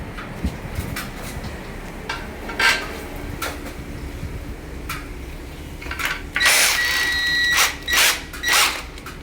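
A power drill slowly drives high-tension concrete screws with a 5.8 socket while mounting an electric lifting clothes-drying rack, giving short whirring bursts with metallic clicks and rattles between pauses, loudest near the end.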